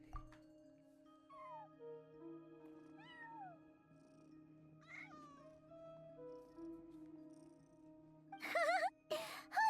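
A cat in the video game Genshin Impact gives a few short, faint meows over soft sustained game music, followed by a louder burst of cat cries near the end.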